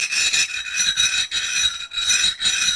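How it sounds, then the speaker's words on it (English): A scraper is drawn along a knife edge in repeated short strokes, a close, dry rasping scrape that rises and falls about four times, with no voices. "Let me see if you can hear it with the scraper."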